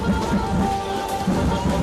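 Steady rain pours during an outdoor Ganesh idol immersion in India, a dense continuous hiss of drops close by, with no voices standing out.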